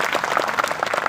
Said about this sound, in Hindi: इसलिए एक बार जोरदार तालियां आप सबके लिए।